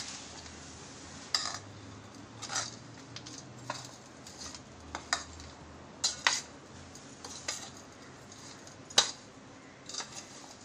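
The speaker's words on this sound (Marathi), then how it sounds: "आता आपल्याला हे व्यवस्थित एकत्र करून घ्यायचं आहे सगळं" Sabudana khichdi ingredients, tapioca pearls with salt, are stirred and mixed in a pot: a spoon scrapes and clinks against the vessel in irregular bursts over about ten seconds, close and clear with no talk.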